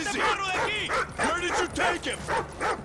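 Dog barking in Call of Duty: Ghosts, a rapid run of about eight sharp yapping barks and whimpers, loud and close, coming in regular bursts.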